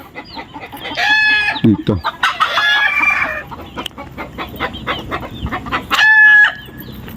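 Native chickens about three to four months old clucking and crowing at close range, with bursts of calls spread across the clip, a loud crow near the end, and a brief spoken word mixed in.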